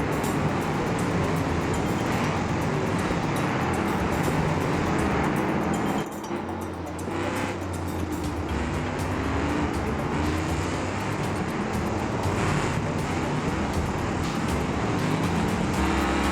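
Stock cars race at Hirochi Raceway in the BeamNG Drive video game, their engines making a loud, continuous roar that dips briefly and then surges back.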